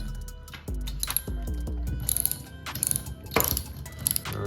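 Ratchet tightening a bolt on a motorcycle paddock stand, a close run of quick metallic clicks in short bursts with a few clinks of the tool.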